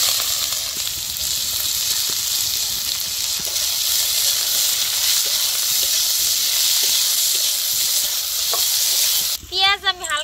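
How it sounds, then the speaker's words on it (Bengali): Chopped onions fry in hot oil in an outdoor village-style picnic cookpot, a loud continuous sizzle with soft scraping stirs, ending in a brief burst of other sound. "পেঁয়াজ আমি হালকা করে ভেজে নিছি"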